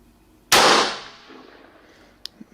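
A single loud, sharp rifle shot is fired at a target through a Hawke night scope, with a long booming decay that fades over about a second. A small faint click follows soon after, and no one speaks.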